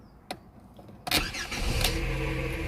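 VAG group car (Audi, VW, Seat or Skoda) starting after an immobiliser repair: a couple of clicks, then the starter cranks briefly and the engine catches and settles into a steady idle, close by.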